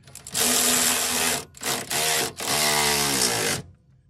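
A power tool tightens control arm bolts under a 2004 Chevy Malibu: loud, close whirring bursts, one long run, a short burst, then a longer one, with no talk.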